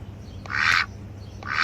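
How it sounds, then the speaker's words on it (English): A goose gives two loud honking calls, the first long and the second cut short as the clip ends. Both sound near and stand alone with no talk. "Next we have a goose."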